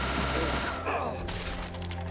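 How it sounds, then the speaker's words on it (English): Rapid gunfire from a machine gun in the video game Deadly Premonition, a dense continuous burst that eases off partway through, with a voice talking over it. "We're just gonna do this until we run out of machine gun bullets."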